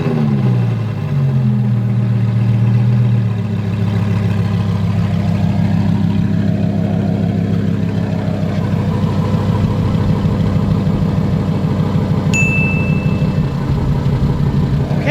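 A Lamborghini Gallardo engine runs steadily at idle, a loud, continuous low rumble that holds close and even throughout, with a brief higher rise near the start.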